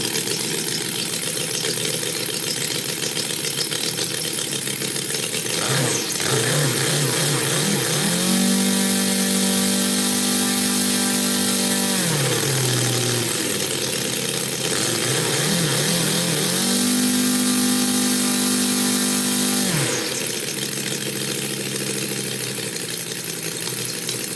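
Radial engine on a Wedell Williams Model 44 model plane running steadily and loudly throughout, with a continuous buzzing drone that twice rises in pitch as the throttle is opened, then drops back to idle.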